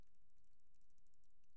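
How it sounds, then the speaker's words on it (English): Quick, faint clicking keystrokes on a computer keyboard during digital photo repair work, tapped in an irregular rapid rhythm close to the mic, with no talking. "I'm using my keyboards right now."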